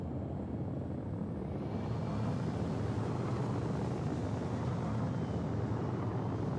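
Steady engine drone of an aircraft in flight inside a video game, a continuous low rumble holding level and unbroken throughout with no talk over it.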